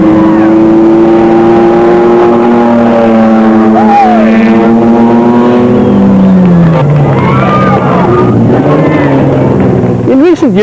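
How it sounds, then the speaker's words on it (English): Toyota Land Cruiser off-road racing truck in the Baberspan 500 rally, its loud engine droning and shifting pitch as it closes on a Mitsubishi to overtake, with someone commenting over the motor noise throughout. "They were followed by the Toyota Land Cruiser of Tschumi and Carl van Pieren, seen here about to overtake the Mitsubishi"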